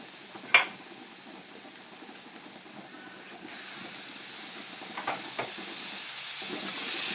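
Onions sauté in a pan with a steady sizzling hiss while tomatoes are added. A sharp clatter comes near the start, then a few softer utensil taps as the sizzle builds slightly toward the end, with no talking.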